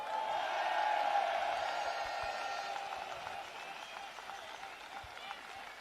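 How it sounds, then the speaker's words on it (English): Crowd at an outdoor UK free speech rally applauding a girl's mum and dad, a steady wash of clapping and cheering that swells early then gradually eases, with voices mixed in. "Let's have a round of applause for her mum and dad as well."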